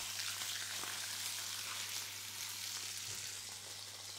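Shrimp frying in olive oil in a pan, giving a steady, close hiss and crackle of sizzling that stays even throughout with no voices.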